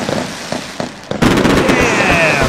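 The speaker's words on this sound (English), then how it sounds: "I haven't heard those explosions yet, so new explosions." Fireworks from a cake in the video game Fireworks Mania crackle and pop at first, then a dense burst of loud explosions and fizzing sparks follows. A voice speaks partly over it.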